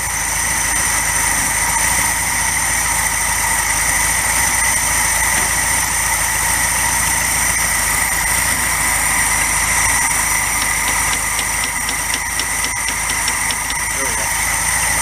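The 1961 Volkswagen Beetle, long parked and never driven, idles with a steady, continuous engine drone throughout, close and loud, while people talk over it.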